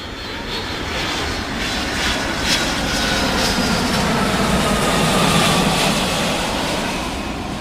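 Steady, loud drone of a small airplane's engine in flight, a continuous propeller roar with wind rush holding constant throughout, no talking.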